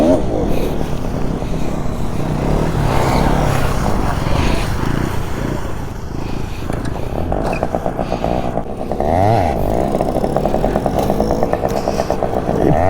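A motorcycle revs hard while a rider practises wheelie stunts. The engine throttles up and down in repeated loud surges, with rattles and scrapes mixed in, and there is some faint talk.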